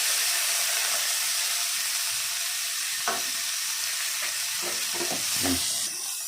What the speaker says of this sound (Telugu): ఇప్పుడు మన కరివేపాకు వెల్లుల్లిపాయలు వేసేసుకోవాలి